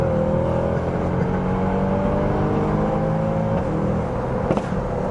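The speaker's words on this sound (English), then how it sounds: "Classic, naturally aspirated engine in it, all the power's top end." Mercedes-Benz C63 AMG with a naturally aspirated engine, heard from inside the car as a steady loud engine drone with a climbing rev tone, continuous throughout without talk.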